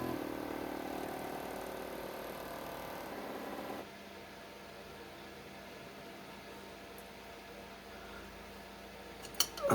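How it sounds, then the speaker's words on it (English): A spin indexer motor, newly upgraded, runs steadily at a slightly higher speed, a continuous mechanical hum that drops in level partway through, with a couple of brief clicks near the end. "That looks like it's a little faster as far as the RPM on the motor is."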